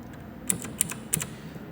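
Three separate key presses on the keypad of an 8085 microprocessor trainer kit in a lab, sharp clicks spaced about a third of a second apart over a quiet background.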